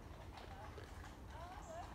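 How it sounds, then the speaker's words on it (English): Horses' hooves clip-clop faintly on the ground in a countryside field, soft, irregular steps heard at a distance under steady outdoor background noise and muffled voices. "All I've found, some horses."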